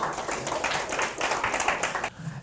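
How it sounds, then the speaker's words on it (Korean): A lecture-hall audience of students claps together, a dense burst of many hands at fairly close range that stops abruptly near the end. "박수 한번 쳐주세요."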